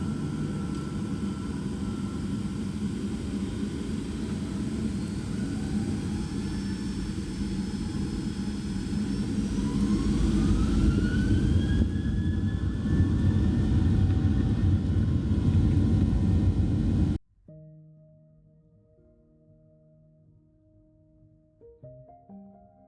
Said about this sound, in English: we can enjoy this fantastic takeoff aboard the 737